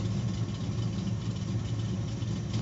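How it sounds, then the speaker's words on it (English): A 1996 Chevrolet Camaro with a manual gearbox, its transmission noise after the clutch is let out: a steady mid-pitched engine whir and rumble throughout, with no talking. "Now that I got the clutch pressed in, let off, makes a little bit of noise."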